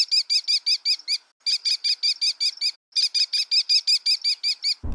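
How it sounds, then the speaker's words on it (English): An American kestrel gives rapid series of sharp, high, shrill klee notes in three bursts of about eight calls each, loud and close with brief pauses between bursts, no voices. "Let's listen to the sound the kestrel makes."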